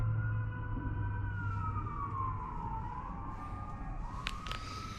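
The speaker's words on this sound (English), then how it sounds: "Don't mind the sirens in the background there." A wailing emergency siren rises and falls steadily over a constant low rumble of city traffic, with a brief higher burst near the end.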